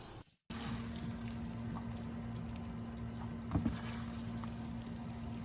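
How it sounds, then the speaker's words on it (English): A steady, faint stream of warm water pours over strained noodles and splashes continuously, with a brief pause near the start and a few soft clinks midway. "Rinse with warm water to remove excess starch."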